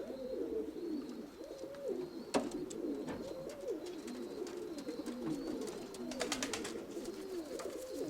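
Pigeons coo continuously in low rolling phrases, close by, with scattered clicks and scuffles over a steady background.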